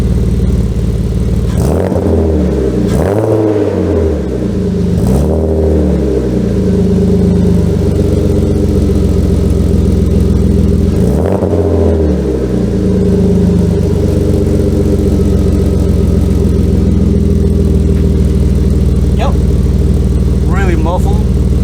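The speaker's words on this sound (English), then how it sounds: "Now I'm going to give it a few revs and let's see how that sounds like." A BMW E36 engine revs several times in quick bursts through a throaty ISR sport exhaust, then settles into a loud, steady idle.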